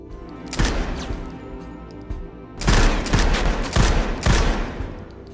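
Bursts of gunfire ring out at a shooting practice, a few sharp shots early and then several louder volleys in quick succession, echoing outdoors with no talking.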